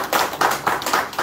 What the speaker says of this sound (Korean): 그래서 박수로 환영부터 하시고.